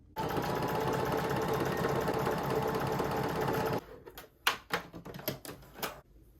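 A home sewing machine with white thread runs steadily for nearly four seconds, stitching a new dart in fabric, then stops, followed by a few light clicks and handling knocks nearby.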